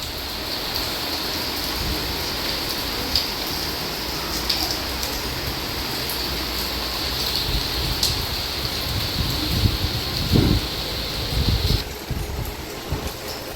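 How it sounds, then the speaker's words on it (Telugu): A sudden evening summer rain falls in a steady, even hiss that fills the whole stretch, with a few louder patters and low rumbles breaking through near the end. "ఈవినింగ్ అయితే ఇలా సడన్గా వర్షం స్టార్ట్ అయిపోయిందండి"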